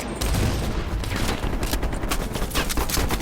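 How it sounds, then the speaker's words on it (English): Heavy machine gun firing from a ridge in Call of Duty: Black Ops Cold War, a dense, continuous loud burst of rapid shots filling the whole moment. "Heavy MG on the ridge."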